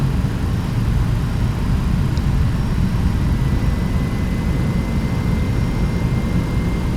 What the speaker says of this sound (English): Those engines got a pretty good sound, I think.